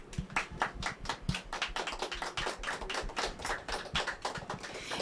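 Audience applause at a Tree Day celebration: a steady patter of many hands clapping at a brisk, even rhythm, moderately quiet and continuous with no voices over it.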